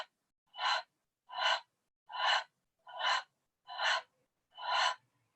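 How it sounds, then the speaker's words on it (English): Breathing during a chair yoga session: six strong, evenly spaced exhalations about a second apart, close and clear, with silence between them and no talking. "You can even take some breath of fire here if you like."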